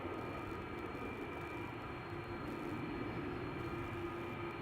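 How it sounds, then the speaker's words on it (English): A Delta airliner departing Amsterdam Schiphol Airport, a steady broadband engine roar with a low rumble, constant in level and fairly distant, with no talk. "so this is a Delta A990 coming this way"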